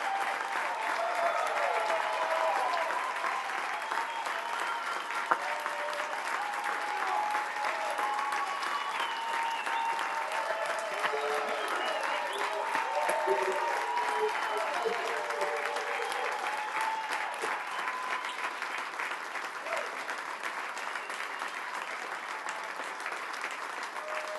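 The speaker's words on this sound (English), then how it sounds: "Everybody get a huge round of applause." A large audience claps in sustained, steady applause for a sports team entering a room, dense and continuous throughout with a faint murmur of crowd voices beneath.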